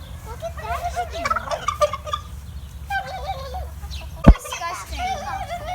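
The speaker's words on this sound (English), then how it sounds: "Look at that chicken." Chickens cluck and gobble in repeated warbling calls at a bison ranch while a person talks nearby; a single sharp knock cuts in near the end.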